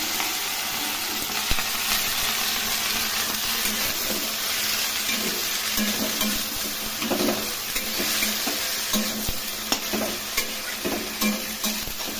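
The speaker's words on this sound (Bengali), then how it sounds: "এখন ওগুলো আমি ভাজা ভাজা করে নেবো।" Small washed broccoli florets fry in hot oil, with a steady loud sizzle and frequent scraping stirs throughout.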